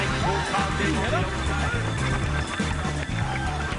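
Racehorses thunder through a harness race at Edmonton, hooves drumming in a steady rapid rhythm with occasional whinnies, all under loud race commentary and crowd noise.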